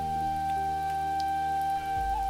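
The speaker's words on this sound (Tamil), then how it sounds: "காற்று வீசி மின்னல் இடியுடன் வரும் மழை." Steady thunderstorm rain driven by wind, a continuous even patter with no distinct thunderclap, running beneath a sustained tonal drone throughout.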